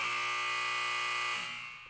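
A buzzer sound effect plays as a loud, steady electronic buzz that holds for over a second before tapering off.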